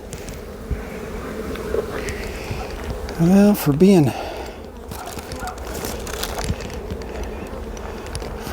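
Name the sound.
honeybees buzzing in an opened hive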